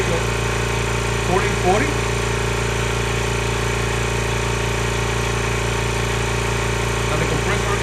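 A 26-gallon air compressor powered by a 100Ah lithium battery runs as a loud, steady motor drone throughout, with brief speech over it partway through and near the end.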